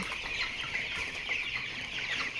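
A flock of roughly 820 twenty-day-old chickens clucks and chirps continuously inside a poultry farm shed, a dense, steady chorus with no single bird standing out.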